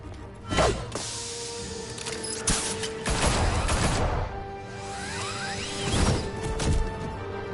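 Bursts of gunfire and impacts in a Batman action game mix with whooshes and crashes, loud and close, and brief voices break in between the shots.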